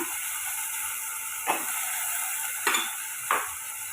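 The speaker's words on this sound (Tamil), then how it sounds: "இதையே நம்ம வதக்கிட்டு எடுத்துக்கோங்க" Tomato, green chili, brinjal and drumstick sautéing in a pan, with a steady hiss of sizzling oil and three stirring scrapes standing out over it, close and fairly loud, no speech.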